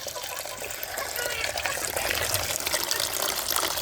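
Water from a tap pours steadily into a basin, a continuous close splashing rush that holds throughout.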